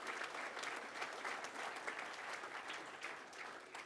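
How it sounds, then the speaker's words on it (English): Audience at an award ceremony applauds an education doctorate program, a steady wash of many hands clapping throughout, fairly distant and even in level. "A round of applause for the Education Doctorate"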